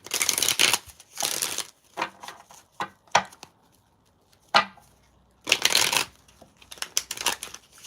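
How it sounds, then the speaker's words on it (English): Tarot cards being shuffled by hand in a series of short riffling bursts separated by brief pauses, close and fairly crisp. "I'm going to do 2 more shuffles."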